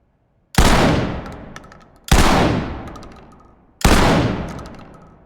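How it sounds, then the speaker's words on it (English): Three slow semi-automatic blasts from a new shotgun in the Ready or Not video game, evenly spaced about a second and a half apart. Each loud, sharp report decays into a long reverberant tail. "Here's firing in slow semi-automatic shots with the new shotgun."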